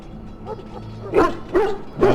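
A dog in the Dragon Age: Origins video game gives a few close, loud barking yips and whimpers in quick succession, with faint game ambience underneath.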